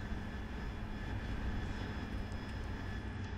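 An AV-8B Harrier jet engine in DCS World hums as a steady broadband roar with faint whining tones, constant and unbroken, no talk.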